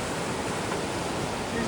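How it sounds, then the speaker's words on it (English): The Pigeon River flows beneath a bridge on the Appalachian Trail, a steady broadband rush of moving water that stays loud and continuous throughout. "Alright, crossing the Pigeon River."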